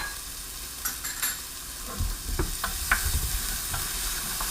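Ginger and garlic sizzling in a pan of lamb curry, stirred with a few scraping utensil strokes over a steady close frying hiss.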